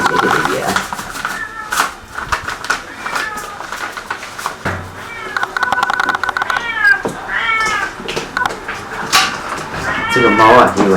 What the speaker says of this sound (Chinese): 这个猫啊，一闻到鱼的味道了，就在那里喵喵的叫起来了